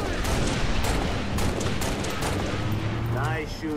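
Dense gunfire from the Halo video game, a continuous barrage of overlapping shots and bursts that stays loud and close throughout, with a voice briefly audible near the end.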